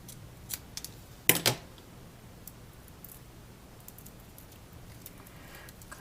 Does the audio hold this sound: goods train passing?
no